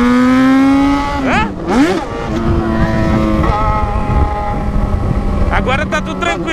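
A Yamaha XJ6 motorcycle engine revs while riding, loud and close, with rising and falling pitch sweeps as the throttle opens and shifts, and voices talking over it.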